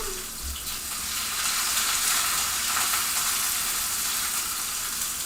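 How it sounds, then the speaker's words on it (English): A HelloFresh meal frying in a pan, a steady broadband sizzle with faint stirring that holds evenly close by, no voices over it. "Alright, so we're going to hear that sizzle sizzle"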